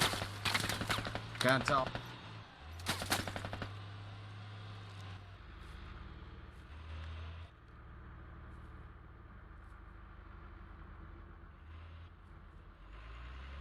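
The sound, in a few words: gunfire in video game Squad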